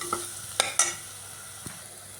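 Quiet, faint sizzle of oil in a pan on low flame as a spice masala for parotta salna is sautéed, with a few sharp scraping clicks of a utensil stirring, then a soft hiss.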